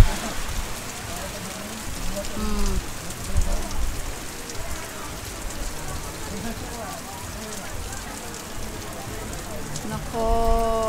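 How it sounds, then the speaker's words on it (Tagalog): Heavy rain pours down during a storm on a trip in Batangas, a dense, constant hiss of falling water with a few brief tonal sounds rising over the steady downpour. "inabot na ho kami ng malakas na ulan"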